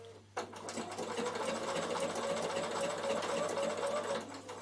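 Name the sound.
Bernina sewing machine triple stitching thick thread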